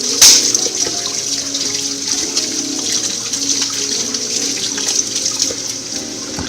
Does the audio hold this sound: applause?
no